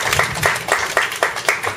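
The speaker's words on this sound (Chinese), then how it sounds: "掌声鼓励鼓励" Audience applause at a live reggae band gig, a short burst of rhythmic clapping with regular sharp hand claps, fairly close and lively, alone without talk.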